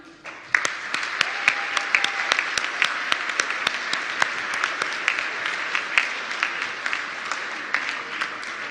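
Warm audience applause at a cyber capacity building conference, many hands clapping steadily and close, with sharp individual claps standing out throughout.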